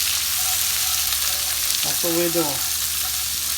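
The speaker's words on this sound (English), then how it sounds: "we're frying this cabbage" Chopped cabbage frying in bacon and sausage grease, a steady loud sizzle and crackle running throughout, with a brief stir and someone talking over it.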